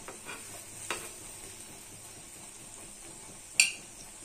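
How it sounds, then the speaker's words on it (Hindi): Banana pancake batter sizzles softly on a hot tawa griddle while being spread, a quiet steady hiss broken by a couple of light metallic clinks from a utensil. "बैटर को तवा में डाल कर फैलाएंगे।"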